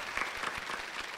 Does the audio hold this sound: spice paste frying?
no